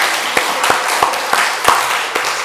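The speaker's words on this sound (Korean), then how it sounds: "하나님께 영광의 박수 돌려드리겠습니다" A church congregation applauding together, many hands clapping in a loud, close, continuous patter with sharper rhythmic beats standing out about every third of a second.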